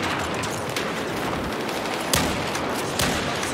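Gunfire in a video game: a dense, continuous burst of shots with a couple of louder cracks standing out, close and loud, with no voices.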